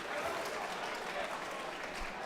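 A crowd at an amateur elite boxing final applauds steadily at the end of a bout, dense clapping filling the hall with no break.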